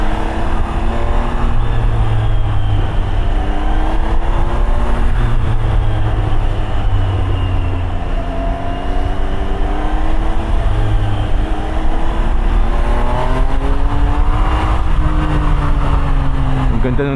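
Triumph Trident 800 motorcycle engine revving loudly and continuously, its pitch rising and falling through repeated throttle swells, close and steady, with someone talking over it.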